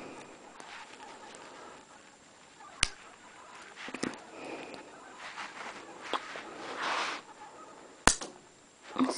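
Homemade clothespin gun cocked and fired, giving a few sharp, isolated clicks and snaps at about 3 s and 8 s over quiet room noise, with faint handling sounds between.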